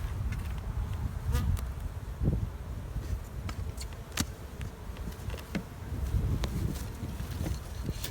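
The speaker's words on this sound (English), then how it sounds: "Plenty of worker bees up here." A steady, dense hum of honey bees buzzing close by at an open hive during a nectar flow, with individual bees zipping past now and then and light wind rumbling underneath.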